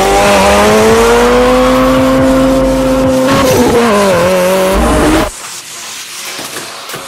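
Hot Wheels die-cast toy cars, including a Porsche 911 GT3 RS, race down a track, with a loud continuous engine-like whine and tire-squeal sounds for about five seconds before dropping suddenly to quiet.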